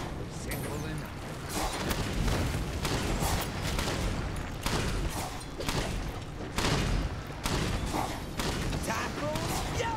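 Sky Fire ability attack in the online game Gigantic, a dense barrage of booming, thudding explosive impacts that rolls on continuously at high volume, with a player talking over the game audio.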